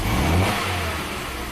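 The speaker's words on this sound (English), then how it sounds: "then snap the throttle" A car engine, fitted with a 265 psi transducer and Pico hose for testing, revs hard as the throttle is snapped, a loud close burst that drops back toward a steady idle.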